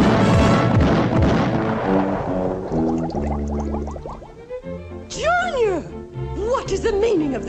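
Cartoon artillery-style booms and blasts burst loudly amid orchestral music and sliding whistle-like tones in a slapstick chicken-croquet battleship scene, with no one speaking over it.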